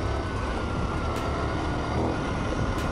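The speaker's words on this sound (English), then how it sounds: "As soon as you twist the throttle, the bike jumps out from underneath you a little bit." A 2017 KTM 1090 Adventure R motorcycle accelerating, a loud steady engine roar mixed with rushing wind noise throughout, close and continuous, with no talk.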